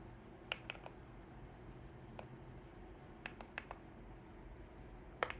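Typing on a Moonlander split keyboard: sparse clusters of sharp key clicks over a steady low hum, faint and close, with short bursts separated by pauses.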